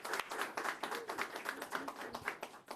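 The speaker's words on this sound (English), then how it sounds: "Let's give Robin a round of applause." An audience claps for a speaker at the grand opening of the Third Avenue Family Health Center: a quiet, continuous patter of many hands with uneven swells, heard from some distance.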